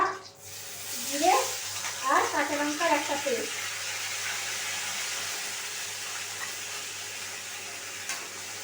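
A paste of ginger, cumin and green chilli fries in a pan with a soft, steady sizzle, while a voice talks briefly near the start over the cooking.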